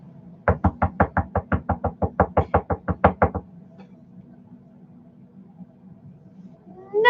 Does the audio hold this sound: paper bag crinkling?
no